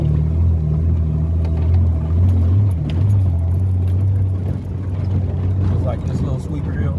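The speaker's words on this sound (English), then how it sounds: "Just like this little sweeper hill, I can two-wheel drive up." A 2011 Jeep Wrangler in two-wheel drive climbs a small trail hill at Sycamore Creek, Arizona, its engine a loud, steady low rumble with a brief dip midway, while someone talks over it.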